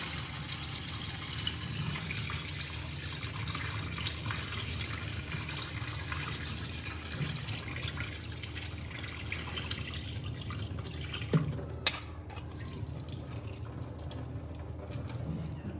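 Steady rush of water draining from soaked lentils for dhokla batter, continuous and close, with a brief clatter near the end; no talking.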